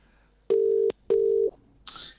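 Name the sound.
telephone dialing tone while calling a guest live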